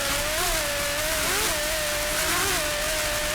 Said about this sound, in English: Just listen to those Lamborghinis.